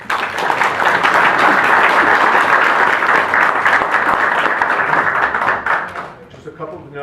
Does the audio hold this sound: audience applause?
yes